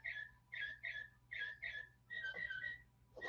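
A series of short, harsh blue jay calls repeated in quick bursts, fairly loud and clear with brief pauses between, scolding.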